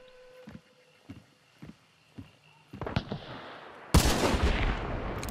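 Gunshots in the Hunt: Showdown video game: four evenly spaced single shots, then a cluster of quicker reports building into a loud, close, continuous burst of fire near the end.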